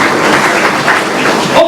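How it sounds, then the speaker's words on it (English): An audience at a breakfast business talk breaks into loud, dense applause, a continuous wash of many hands clapping close by that stays strong for the whole stretch, with voices faintly mixed in. "So clap for yourselves again."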